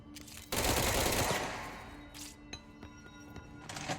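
Automatic gunfire from the video game Control comes as a loud, dense burst lasting about a second, fading into scattered thuds and clicks, then a couple of shorter bursts.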